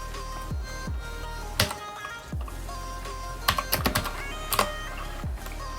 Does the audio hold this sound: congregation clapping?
no